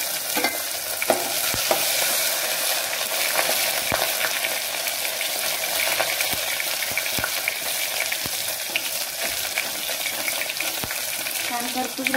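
Garlic-ginger paste frying with curry leaves in a pan of hot oil for idli sambar, a steady loud sizzle with scattered crackles and pops throughout, no voices.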